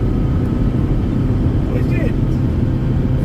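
A Hyundai H-100 van with a 2.6 diesel engine pulling hard on a highway, a loud steady low drone with road and wind noise, someone talking over it.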